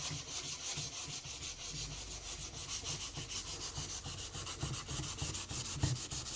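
Hand sanding of a propeller blade with 400 grit sandpaper, a quiet, close scratching rub in quick regular back-and-forth strokes, continuing steadily without talk.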